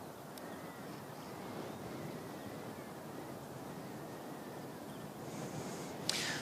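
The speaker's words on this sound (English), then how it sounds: "Well, that wind's going." Wind gusting at Christchurch Airport, a steady broad roar with buffeting against the microphone, loud and unbroken, with a brief sharp knock near the end.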